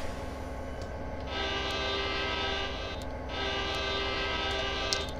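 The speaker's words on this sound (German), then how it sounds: "Aber das Signalhorn darf natürlich nicht fehlen, wenn wir anfahren wollen." A Union Pacific locomotive signal horn in a train simulator sounds at Tehachapi Pass in the Mojave Desert: two sustained blasts over a constant engine rumble, loud and near.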